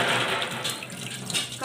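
Water pours steadily over peeled mushrooms being washed for a curry, a continuous splashing gush that fills the moment close by.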